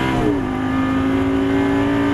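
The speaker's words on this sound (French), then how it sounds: "On réaccélère, on double, allez gaz, monte dans les tours" A Lamborghini race car at Issoire in 2011 accelerates hard, its close, loud engine note climbing steeply and then holding a steady high-rev drone.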